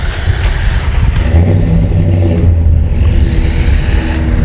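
JJRC Q40 Mad Man 4WD RC truck driving, its motor whirring and revving loudly and close, then easing off as it brakes, with steady drivetrain whine throughout.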